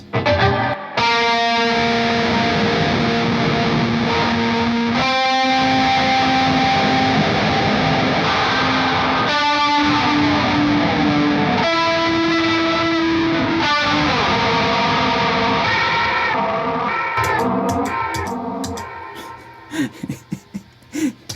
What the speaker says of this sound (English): what's cool about this pedal is you can stretch the reverb